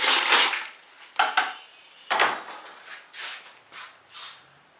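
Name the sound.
ceramic pot dipped into glaze bucket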